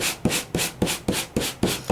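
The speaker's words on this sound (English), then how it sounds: "So I'm using my sanding gadget." Embossed cardstock is sanded lightly with a small handheld sanding gadget, producing brisk rhythmic scratchy strokes, about eight quick back-and-forth rubs close up and alone.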